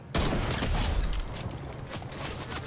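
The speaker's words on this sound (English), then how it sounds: "They're shooting at me now." Sustained bursts of gunfire in a Fortnite match, dense and continuous rattling shots that stay loud throughout, close-sounding with no speech.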